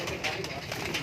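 Pigeons in a breeding setup at Manawala, Lahore Cantt, coo softly and repeatedly at close range beneath someone talking steadily.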